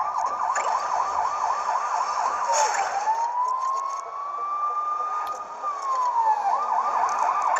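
Police car siren in the video game Lego City Undercover, wailing loud and close in repeated rising-falling sweeps that stretch into one long slow wail before the quick cycling resumes, with no talking over it.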